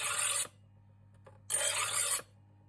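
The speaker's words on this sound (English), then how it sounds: "I've got this Judge knife sharpener, right? This is pretty easy. You just put it through" Two rasping strokes of a knife blade drawn through a Judge pull-through sharpener, each about half a second to under a second long, close and clear, separated by a quiet pause with a faint tap.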